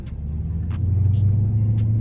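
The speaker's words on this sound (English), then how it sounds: "You can hit the gas a little bit." A Dodge Charger's engine rumbles low and steady as the throttle is pressed lightly, the deep drone swelling gradually from inside the car with a few faint clicks and taps over it.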